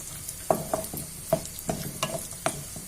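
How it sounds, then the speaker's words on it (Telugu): Cashew nuts fry in hot oil while being stirred, with soft sizzling beneath a series of sharp scraping clicks from the spoon against the pan. "చక్కగా దోరగా బ్రౌన్ కలర్ వచ్చే వరకు మనం ఇలా వేపుకుంటూ ఉండాలి."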